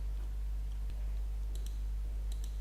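Computer mouse clicks while saving an image in a web browser: a few sharp, faint double clicks over a steady low electrical hum, with no talking.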